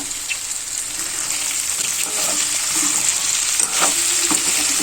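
Potato pieces frying in a pan with curry leaves for a simple aloo fry, giving a steady loud sizzle with light scraping from stirring throughout, close up.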